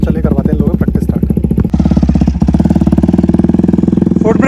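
Motorcycle engine revving under throttle during wheelie practice, a loud, close, steady pulsing drone that rises in pitch as the throttle opens midway, with faint voices underneath.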